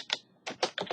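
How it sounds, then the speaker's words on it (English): Keys on a computer keyboard pressed in a few quick, close clicks with short pauses between them, over near silence. "I cannot type today."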